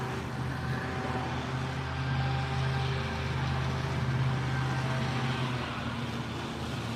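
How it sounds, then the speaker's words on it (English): A leaf blower runs outdoors in a yard, a steady, loud motor whine and rush of air holding for several seconds without pause. "Now he comes with a blower."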